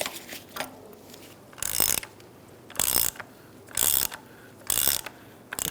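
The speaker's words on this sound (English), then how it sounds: "I'm just going to take this nut off the rest of the way." A ratchet backs off a strut mount nut on a 2002-2006 Toyota Camry, four rhythmic bursts of rapid clicking about a second apart, with softer handling noises between.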